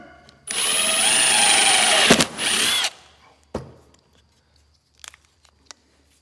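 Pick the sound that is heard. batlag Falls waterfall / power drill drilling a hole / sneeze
power drill drilling a hole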